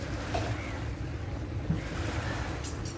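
A boat on the Meghna river moves with a low, steady engine hum beneath rushing water and wind buffeting the microphone.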